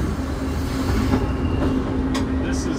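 A train runs steadily toward a station near Lake Kawaguchi in Japan, with a continuous rolling rumble, a faint sustained hum and brief high hissing near the end, heard close from on board.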